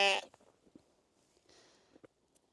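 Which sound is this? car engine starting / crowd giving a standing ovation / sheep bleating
sheep bleating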